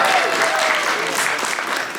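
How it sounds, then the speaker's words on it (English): A theme park audience applauds the zoo team at Busch Gardens Tampa, dense steady clapping from a crowd that stays fairly loud throughout, with a faint tone running beneath it. "How about another round of applause for our zoo team?"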